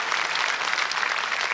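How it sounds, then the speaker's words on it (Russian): A studio audience bursts into steady, dense applause for Tanya Kandybailo from Kirov, a contestant on the Russian TV quiz show Zvezdny Chas; the clapping is loud and continuous throughout. "Аплодисменты Тане Кандыбайло из города Кирова 2."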